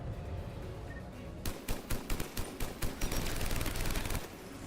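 Video game gunfire aimed at a turret rattles out as a rapid burst of close, sharp shots, evenly spaced over a few seconds, after a quiet lead-in.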